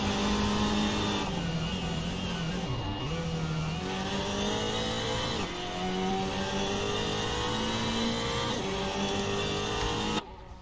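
A race car engine at the Bathurst circuit in a racing game drones loudly and continuously, pitch climbing through several gear changes with brief dips between shifts, then cutting off abruptly at the end.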